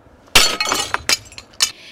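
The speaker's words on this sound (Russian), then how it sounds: "разбил второе окно" Window glass is smashed in a burglary at a country dacha near Cherepovets. A loud crash is followed by several sharp tinkling bursts as shards fall and clink over about a second and a half.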